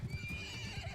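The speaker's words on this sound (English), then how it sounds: "And we got a horse." A horse whinnies in the medieval combat game Bannerlord, a short neigh with hoof clops, set against a busy battle din.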